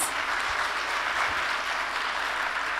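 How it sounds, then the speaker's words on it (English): Steady, dense applause from a large audience at the close of a panel discussion session, a continuous wash of many hands clapping at even loudness throughout. "Can we hear a round of applause?"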